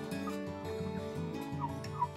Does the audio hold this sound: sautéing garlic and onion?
no